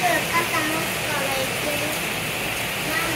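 Steady rain patters and hisses across surfaces, a dense continuous wash of drops with faint voices underneath.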